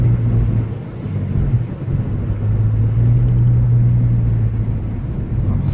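A Nissan with an automatic transmission cruises in third gear with overdrive off, giving a steady low engine drone and road rumble heard from inside the cabin for several seconds.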